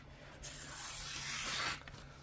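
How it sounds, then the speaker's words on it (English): A knife with its factory edge slices through magazine paper in one smooth, continuous pass lasting about a second, a close, soft rasping hiss with no talk. "That's magazine paper, man. And it's cutting smoother."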